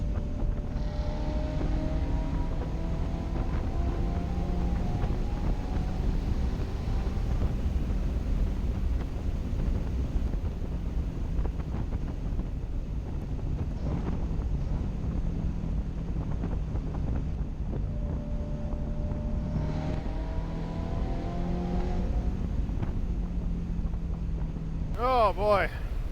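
A Ferrari F355 GTS engine revving through gears while driving with the roof off, rising and falling pitch sweeps over heavy wind rush, with a person talking occasionally.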